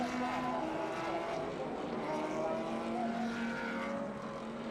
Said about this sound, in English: the sights and sounds of GT3 cars roaring around Suzuka once again